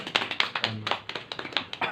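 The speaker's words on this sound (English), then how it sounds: "किस लिए clapping? To increase the confidence of our student." A small audience claps for a student in a classroom lecture setting, a quick run of sharp hand claps that is close and moderately loud, with no voices over it.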